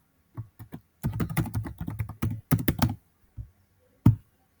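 Username and password typed on a computer keyboard, a close burst of quick key clicks with short gaps and a final louder keystroke, no voices.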